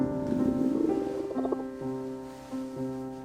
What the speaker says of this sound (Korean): 돈 많은 부자와 함께 있는데 꼬르륵 소리가 나면?